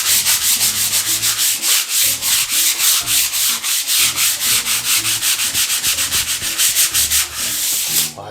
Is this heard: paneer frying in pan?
no